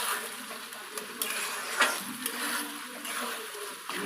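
Tomato dry fish curry being stirred in a pan, a steady scraping and sizzling texture with soft clinks of the utensil against the pan, continuous and close throughout.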